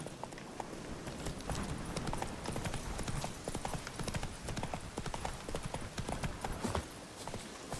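Geralt's horse Roach gallops in The Witcher 3, a steady run of hoof clip-clops throughout, loud and close over background game sound, with a brief whinny-like tone.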